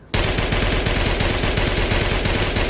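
Rapid, continuous automatic fire from the Enfield MP-45 .45 machine pistol in Fallout 4, a loud, dense stream of evenly spaced shots running without pause after a brief quiet start.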